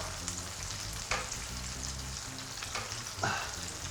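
Steady sizzling and bubbling of tomato shakshuka sauce reducing in a hot pan, close up, with a few brief clinks from stirring.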